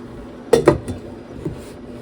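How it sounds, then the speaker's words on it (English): A metal lid set onto a cooking pot of simmering vegetables on the stove, two quick close clanks followed by a softer rattle and a faint knock. "I'll put the lid on"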